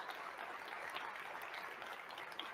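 Audience applause at a live festival conversation event, a dense steady patter of many hands clapping throughout, fairly even in loudness with no voices over it.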